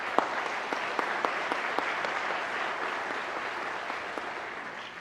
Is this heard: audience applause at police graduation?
yes